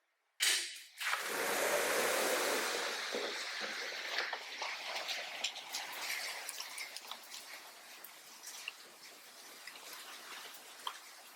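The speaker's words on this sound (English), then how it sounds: "Tell me why it's pouring raining right now." Heavy rain pours outside, starting after a sharp burst, then a dense hiss with scattered crackling patter that slowly eases off. It is fairly close and nobody speaks.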